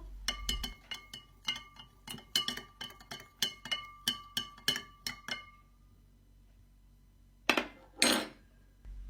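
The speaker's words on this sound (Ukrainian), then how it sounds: "Тепер ретельно все перемішую." Stirring a mixture in a jar of about a litre of plain water with banana peel added, a homemade garden ant remedy: a run of quick clinking taps against the container that stops, then two brief scraping rustles.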